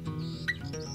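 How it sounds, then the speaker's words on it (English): A brief, bright bird call with a couple of quick chirps over a low background hum. "In the sky a bird was heard to cry."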